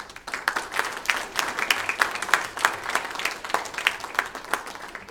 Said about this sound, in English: applause for these folks here.